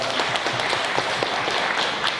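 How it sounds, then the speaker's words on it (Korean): Audience applause for two members of parliament at a Korean startup policy presentation, loud, dense clapping from a large crowd with scattered sharper individual claps, steady throughout. "우리 여기 와주신 그리고 앞으로 규제를 더 이상 만들지 않고 규제를 해결해 주실 두 분 국회의원들께 한번 박수 좀 부탁드립니다"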